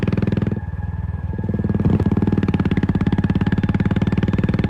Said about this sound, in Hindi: अपनी बाइक से गांव की सुनसान सड़क पर तेजी से बढ़ रहे थे